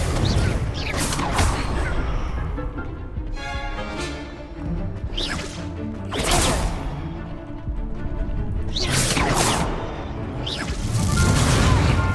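Repeated explosive spell blasts from a fantasy wizarding-school action game burst out every couple of seconds, each a loud broadband crack fading into debris and rumble, stacked over a dense, noisy combat background.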